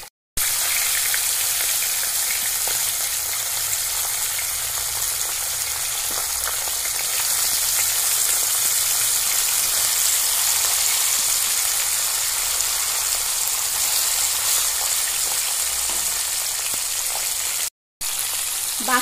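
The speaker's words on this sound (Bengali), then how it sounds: "বাকি মাছগুলো আমি ভেজে নিচ্ছি।" Bele fish frying in hot oil in a wok, a steady loud sizzle and crackle that continues evenly throughout with only a brief break near the end.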